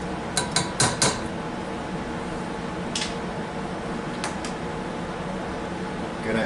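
Drained pasta tossed back into a metal pot for a bacon ranch pasta salad: a quick cluster of clinking metallic scrapes near the start, then a few lighter knocks against the pot over a steady fan-like hum.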